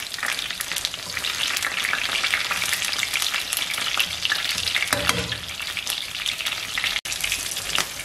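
Potato chapli kababs and a large green chili fry in a pan, a loud, continuous crackling sizzle with bursts of sharper spattering throughout.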